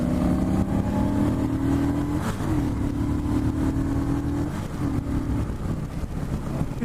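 A 2018 Harley-Davidson Street Rod motorcycle engine rises in pitch as it accelerates on a freeway on-ramp, with gear-change dips and a steady engine drone under light wind noise.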